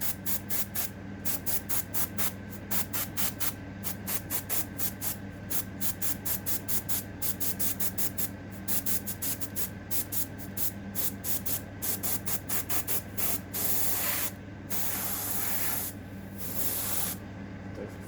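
Airbrush spraying paint inside a spray booth, a rapid series of short hissing bursts in quick regular rhythm over a steady fan hum, followed by several longer continuous sprays.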